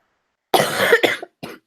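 A single close, harsh cough breaks the quiet, followed by a short second cough a moment later.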